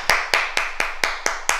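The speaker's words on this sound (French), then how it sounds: "On s'applaudit." Hand clapping in a quick, even rhythm: seven sharp, close claps spaced evenly over under two seconds, crisp and alone with no talking.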